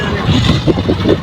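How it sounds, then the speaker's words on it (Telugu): Road traffic passes nearby at night, a loud, continuous rumble of engines and tyres. "మొత్తం ట్రాఫిక్."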